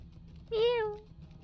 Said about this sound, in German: Oh, diese Katze ist süß.